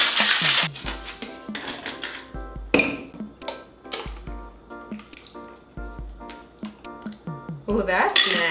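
Ice cubes clink and rattle into a glass of bourbon milk punch, in a quick run of bright, close knocks mixed with voices talking.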